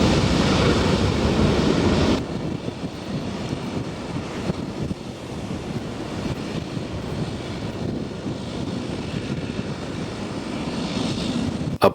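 An old Convair liner propeller aircraft at a Caribbean airport gives a loud, continuous engine drone that eases slightly after a couple of seconds and then holds steady, with a faint wash of surf underneath.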